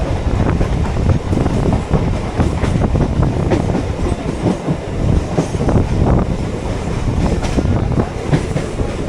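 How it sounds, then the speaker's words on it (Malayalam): A passenger train pulls out of Chennai Egmore station toward Park, heard from inside as a loud, continuous rumble with rattling and clickety-clack wheel beats, plus some wind buffeting. "നമ്മളിപ്പോൾ ജസ്റ്റ് എഗ്മോർ സ്റ്റേഷനിൽ നിന്ന് വിട്ടിട്ടുള്ളൂ."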